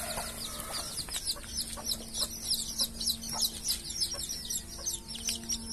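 A flock of 21-day-old jungle fowl hybrid chicks peeps and chirps continuously, many overlapping high calls close by, with a steady low hum underneath.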